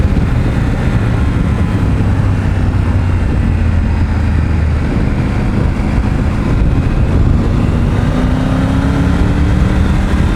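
A Triumph Tiger 900 motorcycle engine drones under heavy wind noise, rising in pitch as it speeds up, continuous and fairly loud.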